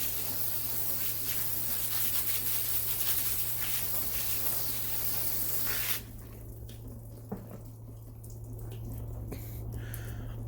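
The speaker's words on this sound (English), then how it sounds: "Spray down your working area too" A steady hiss of spraying liquid for several seconds, then it stops, leaving a quieter room with a low hum and a faint knock.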